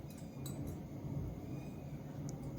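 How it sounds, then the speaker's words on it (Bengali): A spoon stirring salt and turmeric together in a bowl, giving a few light clinks and scrapes against the sides over a quiet background hum, with no talking. "এখন খুব ভালো করে মিশিয়ে নিতে হবে।"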